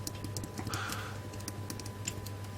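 Buttons on an Amiga Tank mouse being pressed, a series of small sharp clicks at irregular close intervals over a low steady hum, no voices.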